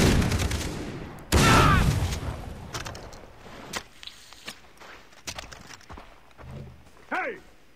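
Shotgun blasts in the Far Cry 3 video game, one loud close boom followed by a few sharper scattered shots and impacts, with game sounds and brief talk around them.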